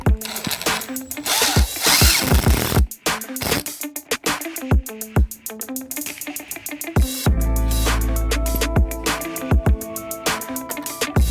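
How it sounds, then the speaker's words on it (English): Power drill driving screws at an angle into a wooden shelf for a container garden, with several bursts of motor whine alongside clicks, knocks and handling noises. "So what I'm doing now is I'm gonna put a screw at an angle."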